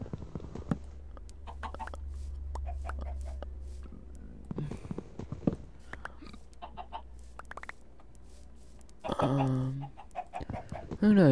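Chickens cluck in the Minecraft video game in short, scattered bursts over a low steady hum, with a louder cluck flurry near the end; someone talks over parts of it.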